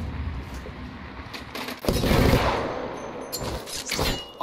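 Gunfire in the Apex Legends video game, with bursts of automatic fire that swell into a dense, loud volley midway, then sharper scattered shots near the end, heard close without talk.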